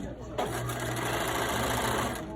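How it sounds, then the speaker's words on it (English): A sewing machine stitches a folded apron hem about an eighth of an inch from the inner edge, starting abruptly and running as a steady, close, even whir for the rest of the moment. "I'm gonna sew it about 1/8 an inch from this inner edge."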